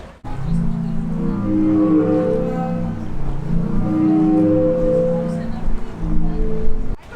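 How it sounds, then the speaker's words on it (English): The Zadar sea organ on the Croatian waterfront, where waves push water into pipes of different lengths beneath marble steps, gives out low, steady breathy tones and harmonic hoots that swell and fade continuously, with wind and surf beneath. "there is the sea organ, which is an installation of multiple pipes of different lengths"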